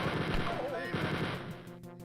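Rapid gunfire from the classic shooter Wolfenstein 3D rattles in dense repeated bursts under ongoing talk, loud and close throughout before fading near the end.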